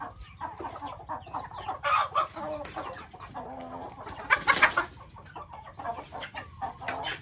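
Chickens of several breeds cluck and chatter continuously nearby, with a louder burst of squawking partway through over steady farmyard background noise.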